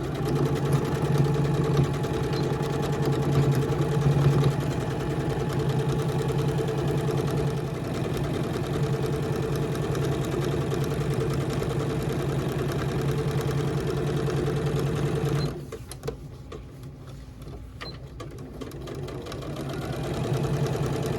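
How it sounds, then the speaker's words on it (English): A home sewing machine stitches down one side of a zipper change pad cover, a steady mid-pitched motor hum with rapid needle rhythm running continuously, then stopping abruptly near the end, leaving quiet room noise. "I'm gonna sew this side down because I don't want it to bunch up coming up."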